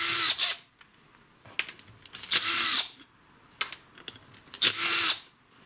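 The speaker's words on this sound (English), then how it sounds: "Again, you need a T27 Torx screwdriver." Screws on a weed wacker cover being driven out with a T27 Torx driver, heard as three or four short whirring bursts separated by quiet gaps and small clicks, close and fairly loud.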